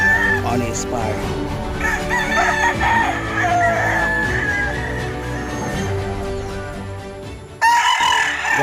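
Gamefowl roosters crow on a game farm, several drawn-out calls overlapping in a busy outdoor scene with background noise and a loud burst near the end.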